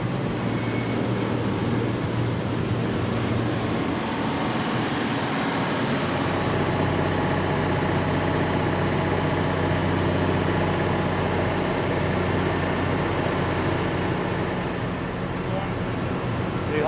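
A John Deere tractor engine roars steadily under load on a dyno, loud and continuous with a brief dip in the middle, while people talk over it.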